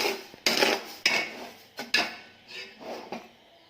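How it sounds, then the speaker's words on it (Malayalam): A spoon stirs sugar in a heated metal pot while making nannari sarbath: about six distinct clanks and scrapes against the pot, spaced irregularly, close and moderately loud with quiet between. "പാത്രം ചൂടായി വന്നപ്പോൾ പഞ്ചസാര ആവശ്യത്തിന് അതിൽ ഇട്ട് കൊടുത്തിട്ടുണ്ട്. ഇനി നല്ലോണം ഒന്ന് ഇളക്കി കൊടുക്കാം"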